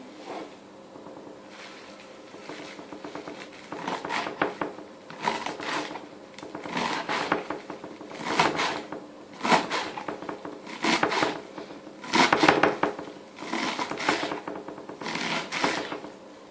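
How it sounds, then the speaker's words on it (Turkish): Rapid, rhythmic knife chopping of parsley on a cutting board comes in repeated bursts of quick taps, close up, with short pauses between runs and no talking. "maydanozlarımı doğruyorum"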